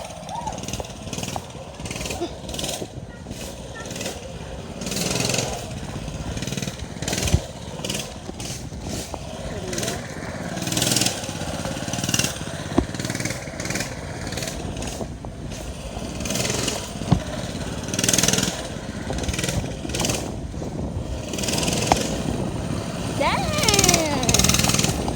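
A dirt bike engine runs continuously with a rough, buzzing idle and occasional surges, heard from close by with voices now and then over it.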